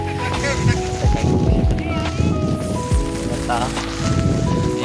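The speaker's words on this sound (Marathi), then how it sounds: "हा मोस्ट जोरात पाऊस आला" Heavy rain pours steadily in a loud, dense hiss at Igatpuri, Nashik district, with people talking and moving nearby underneath it.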